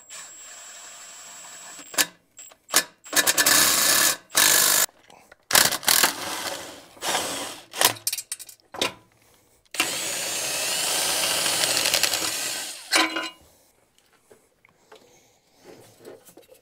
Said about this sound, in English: And then we just tighten that until the clutch pops off.